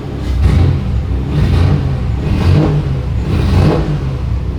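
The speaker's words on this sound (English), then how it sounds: "the revs are a little quieter too. So it's definitely quieted down quite a bit" A 1986 Nissan 300ZX engine revs repeatedly through a custom exhaust with a new midpipe and no muffler, four or five deep rising surges of exhaust rumble, close and fairly loud with no talking.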